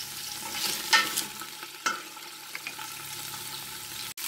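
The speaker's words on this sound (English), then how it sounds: "All right, so I got a good sizzle." Steady sizzling and frying in a pot while making chicken stock, with scattered pops and crackles, plus a few sharper clinks near the start, no voices.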